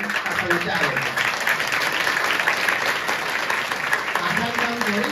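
A crowd of people clapping hands together, dense continuous applause with voices talking over it throughout.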